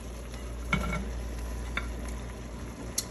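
Vegetables going into a pot of simmering Filipino pork adobo and being stirred, a steady soft sizzle and bubble with a few distinct clacks of a utensil against the pot.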